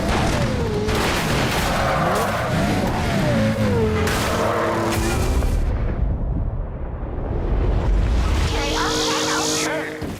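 Cars in Burnout, an arcade racing video game, roaring and revving at speed with booming crash impacts and crunching metal, ending in loud chaotic collision noise.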